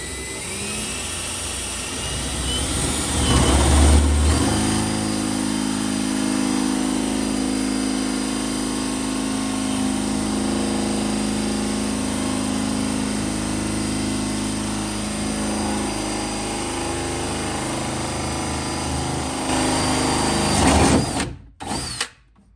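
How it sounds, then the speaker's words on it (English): Power drill boring holes into the thin veneered wood of an antique hutch, a loud steady whine running close and alone for about twenty seconds before winding down abruptly. "you'll see these drilling holes in this stuff tends to rip the thin veneer off"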